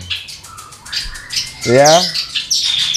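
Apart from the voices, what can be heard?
prinia songbird singing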